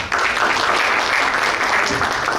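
Audience applause at a water-management forum session on hydropower dams, welcoming the next presenter. A steady, full wash of clapping from a seated crowd holds at an even level throughout, with no talk over it.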